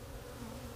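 Honeybees buzzing around hives in the countryside in spring, a steady faint droning hum with no talk over it.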